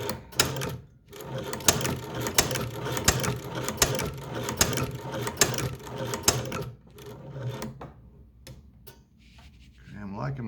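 A Chinese leather shoe patcher sewing machine stitches a diamond pattern into a leather test piece, giving rapid, loud mechanical clacking and ratcheting in quick bursts, then slowing to a few isolated clicks and a pause.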